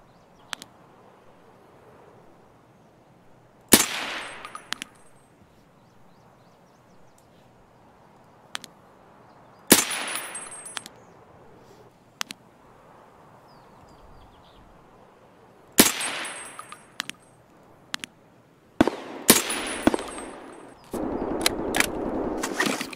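Gunfire from an SVDS sniper rifle in Escape From Tarkov on the Reserve military base: sharp, loud single shots spaced several seconds apart over a quiet background, growing more frequent toward the end with a dense rattling burst.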